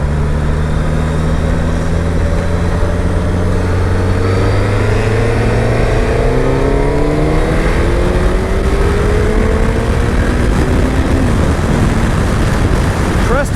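A Suzuki GSX-S1000GX motorcycle accelerating on a highway, the engine note climbing steadily through rising pitches under loud, constant wind rush, heard close from the rider's position.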